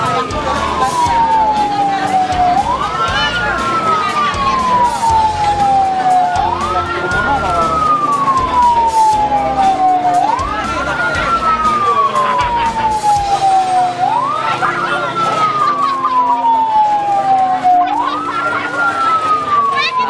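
An ambulance siren wails in a repeating rising-and-falling cycle, loud and close, at a marathon race on Lombok, with a vehicle engine rumbling underneath and voices in the background.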